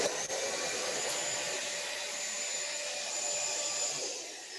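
An electric balloon inflator machine runs as a steady, loud airy whoosh, close and continuous with a constant motor hum and no pause, alone without talk.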